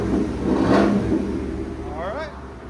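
A 2019 Cadillac Escalade with a 6.2L V8 and Corsa Sport cat-back exhaust revs once in a short throaty blip, close and loud, then settles to a low idle rumble.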